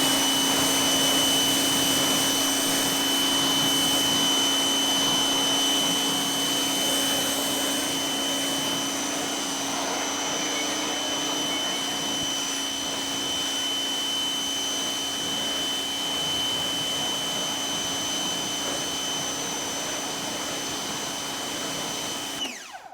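Water spray rinsing the Nitto Terra Grappler tire and rim on a Jeep Gladiator Mojave, a steady, loud, unbroken hiss of pressurized water lasting over twenty seconds with no talk.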